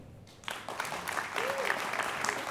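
An audience in a hall breaks into applause, starting faintly then swelling into steady clapping, with a voice briefly audible over it.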